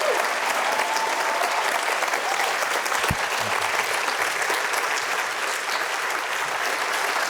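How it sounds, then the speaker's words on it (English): Sustained, dense audience applause at a steady level throughout, close and full, with no talk over it. "Please give her a big round of applause"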